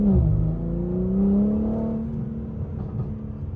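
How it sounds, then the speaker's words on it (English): Exhaust overrun from a 2023 BMW M3 with a Carbahn Stage 2 tune, a deep engine note falling off throttle with low rumbling burbles and crackle, close and steady for a few seconds. "the overrun with the burbles sounds definitely sounds different than OEM"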